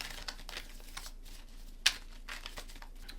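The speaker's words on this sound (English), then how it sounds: "Shuffle these cards up real quick." Playing cards shuffled by hand during a tabletop football board game, a soft papery riffle with crinkly ticks and one sharp snap near the middle, fairly quiet and close, with no talking.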